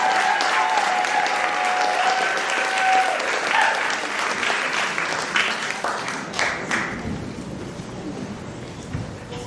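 An audience at Dr. Adlaide Sanford's 99th birthday celebration claps loudly and steadily, the applause with a few cheers gradually thinning toward the end.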